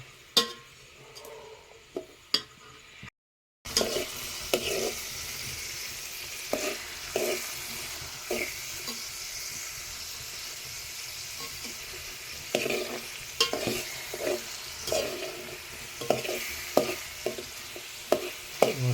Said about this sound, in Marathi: फायनली कांदू टाकला आहे बघा मस्तपैकी आता ना कांदू मस्तपैकी ना शिजवून दे